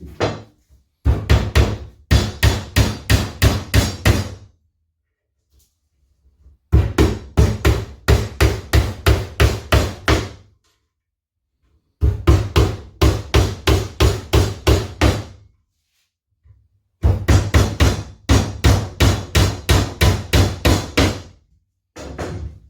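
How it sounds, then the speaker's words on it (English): A hammer drives nails into a wooden National beehive brood box. The blows come close and loud in four separate bursts of about ten sharp, evenly spaced strikes, with short pauses between the bursts. "so now it's just completing it, nailing it along the bottom"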